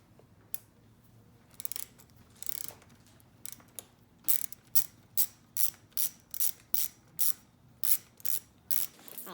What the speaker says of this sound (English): so we come here and remove these bolts